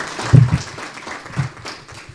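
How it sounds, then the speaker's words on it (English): An audience at an economic resilience conference gives a short burst of applause, with scattered clapping that rises near the start and tapers off over about two seconds, a faint voice underneath. "Last round of applause."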